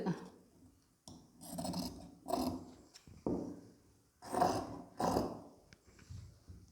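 Scissors snipping fabric around the corners and inner edge of a blouse neck design, coming as separate rasping strokes roughly every second, close and clear with no talking.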